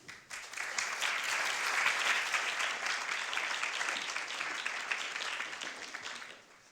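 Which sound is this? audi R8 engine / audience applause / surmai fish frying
audience applause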